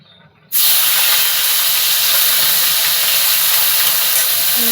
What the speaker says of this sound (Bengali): এরপরে দিয়ে দেবো এর মধ্যে আমি চিংড়িগুলো।